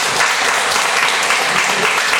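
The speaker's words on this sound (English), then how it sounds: "why don't we give a big round of applause to him for his special session today" Steady, loud applause from an audience at a special lecture session, dense even clapping filling the whole moment without voices.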